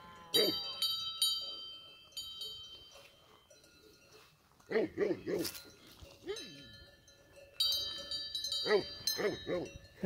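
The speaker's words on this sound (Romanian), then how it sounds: "Aici sunt oile." Sheep on a farm in Bucovina bleating in short, quavering calls amid clinking bells, with quieter gaps between calls; a voice talks in the background.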